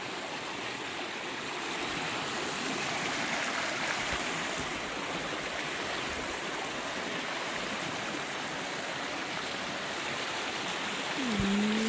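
A small creek flows under a little bridge on a forested Washington trail, a steady close rushing and burbling of water with no voices, ending in a brief low thump.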